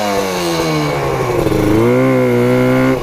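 A Yamaha RD350 cafe racer motorcycle engine, loud and close, a buzzing two-stroke note that steadily climbs in pitch as it revs up and then holds high.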